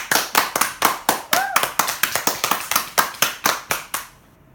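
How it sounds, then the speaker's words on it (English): Wedding guests clap in a fairly sparse, rhythmic burst, with individual sharp claps standing out close by before the sound stops abruptly near the end. "Why don't you give them a round of applause"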